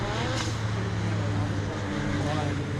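Alfa Romeo race cars roll around Donington Park on a green flag lap, their engines making a steady mid-distance drone with no sharp revs across the short stretch.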